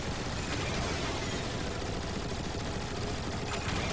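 Sustained gunfire in Transformers: War for Cybertron, aimed at a giant slug, a dense, steady stream of rapid shots filling the whole stretch at a constant loud level with no pauses and no talking.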